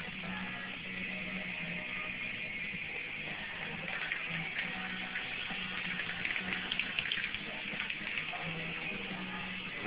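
A paint sprayer hose splatters paint onto a wall, giving a steady, loud hissing spray with a faint hum underneath that runs throughout.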